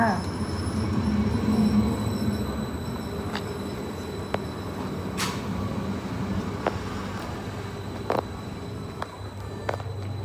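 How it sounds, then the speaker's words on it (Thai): Steady rumble of a moving passenger train in Norway from inside a carriage, with occasional clicks and rattles over the continuous drone. "เราขึ้นรถไฟไปทำงานกันจ้า"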